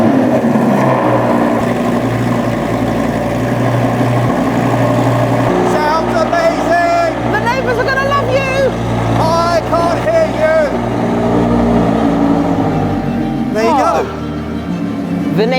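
Cold Lamborghini Gallardo Superleggera engine idling then blipped a few times, a loud close drone with short rising revs and gearbox whine, people talking around it.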